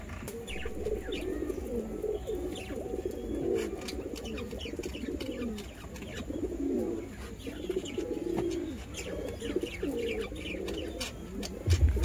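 Pigeons coo repeatedly in overlapping soft, throaty calls, close by and continuous with no talk.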